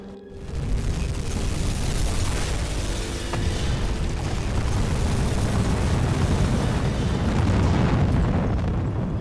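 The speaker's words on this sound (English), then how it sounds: "I love it when you hit a tanker because they just absolutely blow up everywhere" In the UBOAT submarine game, a tanker struck by torpedoes blows up in a long, heavy, rumbling roar of explosions that stays loud and dense throughout with no pauses.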